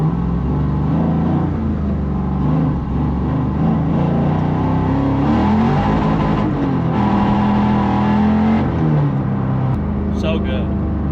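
An LS V8-swapped Toyota 86 idles and rolls with a lumpy, choppy rumble through its muffler, the engine note rising and falling at close range while people talk over it.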